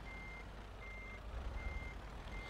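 A truck in Euro Truck Simulator 2 reverses while parking, giving regular, evenly spaced electronic backup beeps over a low engine rumble, faint and steady.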